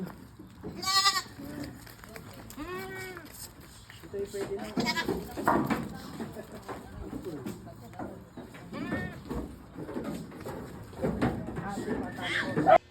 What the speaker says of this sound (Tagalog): nakasakay na ang ating mga kambing